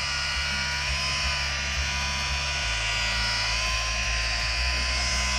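A machine polisher fitted with a Nanolex polishing pad runs at 900 rpm, giving a loud, continuous electric whine and hum that shifts slightly in pitch partway through, with no voices.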